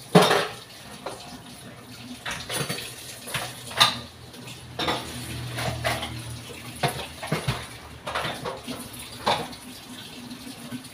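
Dishes and pots clank and rattle under running tap water during early-morning washing, with irregular knocks of metal and crockery over a steady flow of water.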